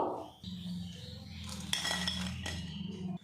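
Fried crispy raw-potato snacks are lifted out of a frying pan. Several bright metal clinks of utensils against the pan ring over a steady low background.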